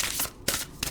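Playing cards riffle in short, quiet bursts during a shuffle, three crisp flurries heard close up in a hushed room.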